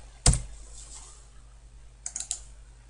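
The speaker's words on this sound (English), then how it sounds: "So we'll just type in" Close keyboard typing: a single firm keystroke, a pause, then a quick cluster of three or four clicks, with no voice over it.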